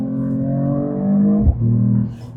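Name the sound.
Mercedes-AMG E53 engine revving through quick gear shifts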